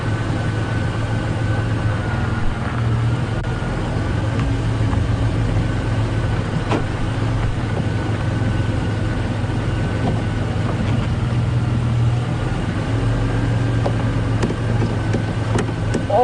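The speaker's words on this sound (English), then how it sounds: "I just want to put my car into low range so that we don't disturb it too much with really high revs" A safari vehicle in low range rolls slowly with a steady, low engine drone throughout and no voices.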